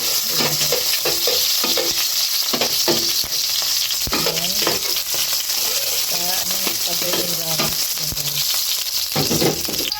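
Pork stirred and browned in a frying pan for sinigang, giving a steady loud sizzle broken by scraping and clinking stirs, with a voice talking intermittently over it.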